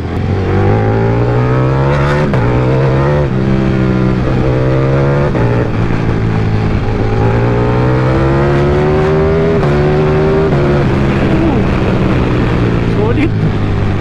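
A Ducati Panigale V4S 1,103cc motorcycle engine revs loudly and steadily up close, its pitch rising and falling through repeated throttle blips over fourteen seconds, with no talk over it.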